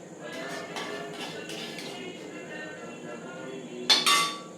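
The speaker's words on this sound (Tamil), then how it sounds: "நான் இந்த சர்விங் பிளேட்டில் இதை எடுத்து விட்றேன்" Black urad dal usili is moved onto a serving plate with soft scraping pulses, then a couple of bright utensil clinks against the plate near the end, close and fairly quiet.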